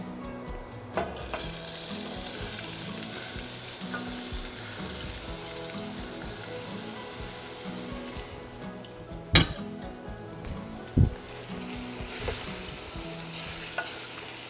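Diced plums added to sweating shallots in a pan, a gentle steady sizzle under stirring, with a few sharp utensil clinks against the pan standing out.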